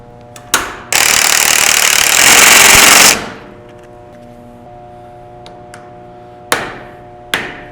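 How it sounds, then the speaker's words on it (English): A hammer strikes a bolt extractor locked onto a rounded bolt head. Sharp, loud metallic blows land close by, with a dense two-second burst of rattling impact noise early on and two more separate strikes near the end. "and then smack it with a hammer"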